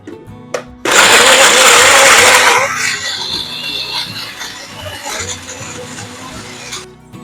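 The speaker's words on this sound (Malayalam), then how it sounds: "വൈറ്റമിൻ സി എല്ലാം കൂടി നമുക്ക് ആദ്യം തന്നെ അങ്ങോട്ട് ബ്ലെൻഡ് ചെയ്യാം" A blender starts up on vitamin C oranges with a loud, harsh whirring roar that settles into a lower, steady grinding whir and continues for several seconds.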